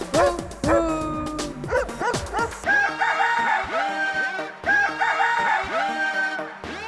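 A dog barks within a Hindi children's animal-sound rhyme, its barks set among bright sung music, rooster-like calls and steady rhythmic backing.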